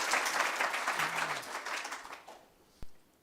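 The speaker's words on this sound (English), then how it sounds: "round of applause" An academic conference audience applauds in a brisk, dense burst of clapping, with a voice briefly over it, fading out after about two seconds and leaving a single sharp knock.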